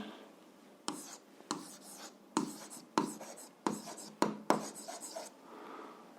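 Pen or chalk strokes writing notes by hand during a Ukrainian 8th-grade physics lesson on levers, a series of short scratchy bursts at irregular intervals, close and fairly quiet, with no voices.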